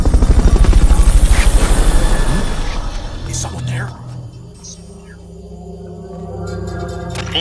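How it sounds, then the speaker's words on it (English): A Fulton recovery helicopter in the video game Metal Gear Solid: Peace Walker throbs loudly up close, then fades into a quieter hum with electronic tones and a voice speaking over it. "Fulton recovery helicopter is complete."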